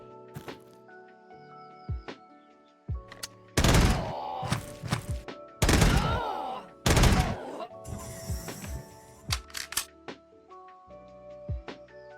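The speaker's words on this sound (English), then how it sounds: "Still pretty cool to be just shooting with a robot arm." Gunfire from a robot arm in a vampire-themed video game comes as several heavy, booming shots in quick bursts, mixed with thuds and clicks over a steady synthetic background.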